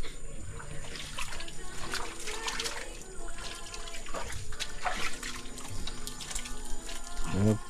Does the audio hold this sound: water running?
yes